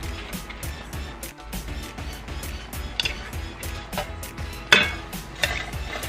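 Cheesecake filling being mixed with a quarter cup of granulated sugar gives steady, close scraping and tapping of a utensil against a bowl, with one sharper clink near the end.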